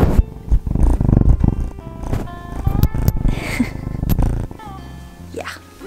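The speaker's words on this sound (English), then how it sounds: "Listen to the purring." A cat purrs in a rough, rumbling drone close up, with handling noises and a bit of background sound.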